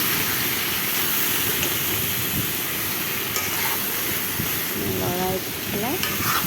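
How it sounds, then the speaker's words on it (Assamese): Chicken frying in a pan while being stirred, a dense loud sizzle with rough scraping and clattering stirs, plus a couple of brief squeaky scrapes near the end, no speech. "লৰাই দিছোঁ অকণমান।"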